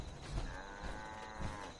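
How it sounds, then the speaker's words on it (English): Two-headed cow in a video game lets out a short, low moo, faint and alone. "oh, 2-headed cows"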